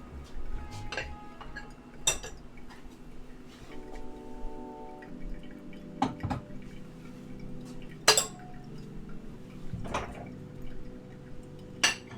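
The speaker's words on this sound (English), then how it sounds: "Put a few dishes away while that works." Dishes and cutlery are put away in a home kitchen, with scattered light clinks and clatters of crockery and metal spaced irregularly over a quiet background.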